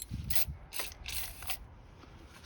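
A ratchet turns a spark plug socket on a Ford Flex 3.5L V6, four quick clicking bursts in a fast rhythm, close and quiet.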